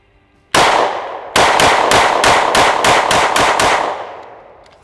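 A Walther PDP handgun fires a rapid string of loud, close shots at an outdoor range: one opening report, a short pause, then about eight quick evenly spaced shots, each ringing out before a fading echo.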